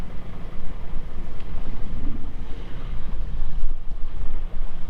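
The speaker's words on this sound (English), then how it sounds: "I'm still going by engine until we will leave this narrow area here" A sailboat motors under engine power through a narrow channel near a bridge at sunset off Fyn, Denmark, giving a steady low engine rumble mixed with gusty wind buffeting the microphone and water sloshing along the hull.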